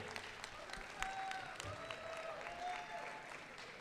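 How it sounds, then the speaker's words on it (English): Audience at a VEX Robotics showcase closing ceremony clapping for the MC, a steady patter of applause heard fairly faintly, with a few brief voices and whoops mixed in. "I just want to give her a round of applause for all her dedication and commitment"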